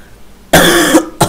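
A person coughs loudly and close up, one long harsh cough followed by a brief second one, with nothing else heard.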